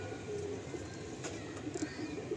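Pigeons in a loft give low, throaty coos that overlap in a continuous murmur, with no talking.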